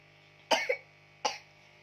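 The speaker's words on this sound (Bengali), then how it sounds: "কাশি তো শুরু হয়ে গেছে, কন্টিনিউ কেসে যাচ্ছে" A sick child coughs twice, a short double cough followed a moment later by a single cough, close and clear against a quiet room with a faint background hum.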